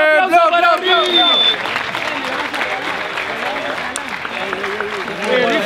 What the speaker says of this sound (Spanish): ¡Aplausos para Rife!